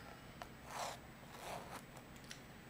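A zipper on a real leather Coach wallet is opened and closed in a couple of short, faint rasping pulls, soft and close, with small clicks between them and no talking.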